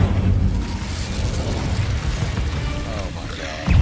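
Incendio fire spell from Hogwarts Legacy, heard as a loud, roaring blast with a rumbling burst that fills the clip, then a few brief bright magical chimes and a fresh boom at the very end.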